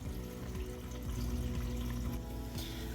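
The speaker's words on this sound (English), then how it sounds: "the canister filter is filling up with water" Water rushes and gurgles as it fills a Fluval 207 aquarium canister filter, a steady close-up flow that carries a low, wavering tone.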